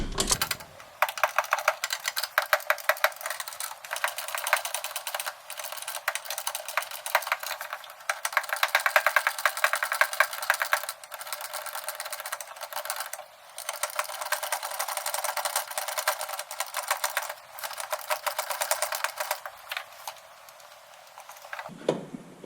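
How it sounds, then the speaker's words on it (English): A ratchet with a 10mm socket works the horn bolts on a 2020 Dodge Challenger 1320, a long continuous run of rapid clicking close to the mic that pauses briefly several times before stopping. "Okay, got my 10mm socket."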